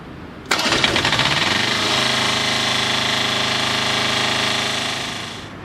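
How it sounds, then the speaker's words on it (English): An Aussie King Cobra jetter trailer engine fires abruptly after a moment of quiet, then settles into a loud, steady, close drone with an even pulsing beat that tapers off slightly at the end. "And you can start your engine now."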